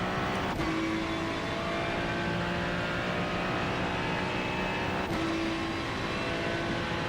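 GT3 sports car engine in the iRacing sim, holding a steady, loud drone through the whole stretch with two brief shifts in pitch as gears change, no voices over it.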